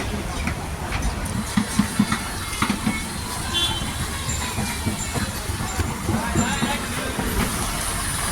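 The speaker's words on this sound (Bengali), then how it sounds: "এদিক দিয়ে ট্রেন যাচ্ছে" A train rolls past in a busy Karwan Bazar market in Dhaka on a rainy day, a steady low rumble with faint clatter and a few sharp knocks, heard close under market bustle and passing voices.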